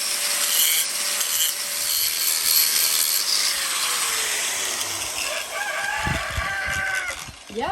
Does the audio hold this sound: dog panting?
no